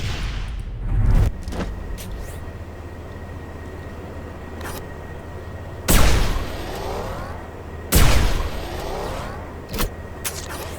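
Heavy weapon blasts in the shooter game Quake 4, three or four loud booming shots spaced seconds apart over a low rumbling ambience, with no talk.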